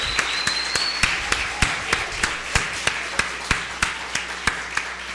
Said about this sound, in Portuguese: vamos aplaudir ao Júnior por esse trabalho belíssimo